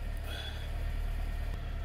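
A car engine idles steadily while the alternator is checked with headlights and air conditioning running, a constant low hum that stays even and continuous throughout without revving.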